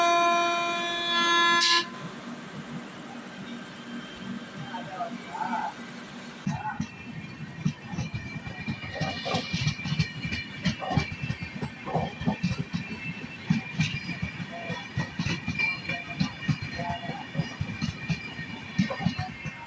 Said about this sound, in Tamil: எதிரில் திருவேந்திரம் மெயில் இப்போ கிராஸ் ஆனதுக்கப்புறம்